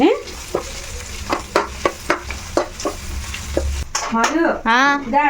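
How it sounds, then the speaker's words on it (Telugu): Semiya upma ingredients fry in a pan with turmeric while a spoon stirs and scrapes them in a steady, repeated rhythm over a constant close sizzle. A louder burst of frying rises near the end. "మళ్ళీ ఇగో ఇంకా కొంచెం పసుపు, ఇప్పుడు ఇవి బాగా వేగాలి"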